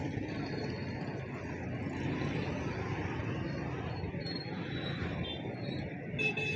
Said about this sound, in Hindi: रोड देखें आप, यहाँ का ट्रैफिक।